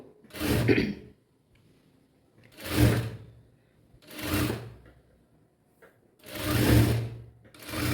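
A sewing machine stitches a blouse in four short bursts, each about a second long, separated by quiet pauses. The whirring runs are close and clear, with no talking.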